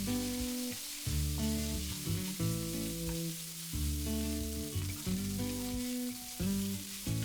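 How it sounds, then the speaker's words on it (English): Beef mince with boiled, crushed potatoes and black pepper frying in a pan, a steady sizzle broken by regular clattering stirs of a utensil, close up with no voices. "Add 1 teaspoon black pepper powder, 1 boiled and crushed potatoes and fry this for about 2 minutes."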